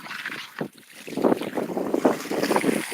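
Water sprays over a rusty metal flywheel being rinsed off, a rough, rushing hiss that surges and fades in uneven bursts close to the microphone.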